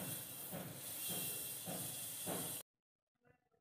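An electric mixer grinder whirs loudly as it grinds niger seeds for a village-style chutney, a steady churning roar with rhythmic surges that cuts off abruptly, followed by faint clatter.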